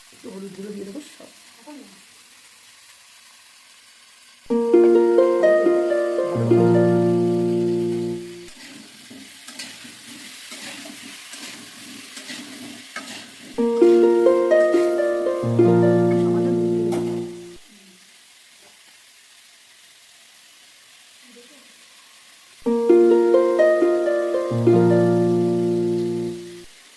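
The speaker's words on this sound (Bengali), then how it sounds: "আলুগুলো দিয়ে দেবো ভাজার জন্য।" Potatoes with salt and turmeric powder fry in a pan, a steady sizzle and occasional stirring running throughout, with loud bursts of melodic music repeatedly playing over it.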